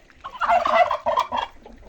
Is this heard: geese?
yes